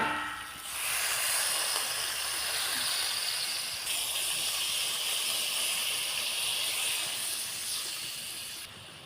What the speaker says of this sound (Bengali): এবার ঝোলটা ফুটে গেছে